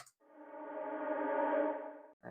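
A sustained, swelling wash of reverberant tone blooms and holds, then fades away, standing alone between short bursts of sound at either end.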